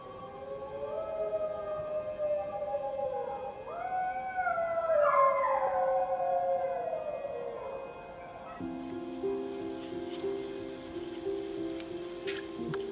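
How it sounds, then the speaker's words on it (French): Two wolves howl on either side of a trail, their long, gliding, wavering calls overlapping and rising and falling over about thirteen seconds, moderately loud against a quiet outdoor background. "Le bruit de ces deux loups de chaque côté du sentier"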